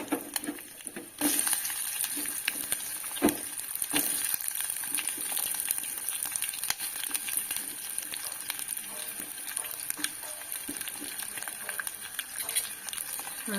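Curry leaves and sliced onion sizzle in hot oil in a pan, a dense continuous crackle with occasional sharper pops, close and steady throughout.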